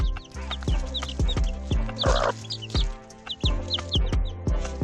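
Backyard chickens cluck and squawk over a treat while a chick squabbles with a hen for it, sharp repeated calls and scuffling pecks close by, overlapping and busy throughout.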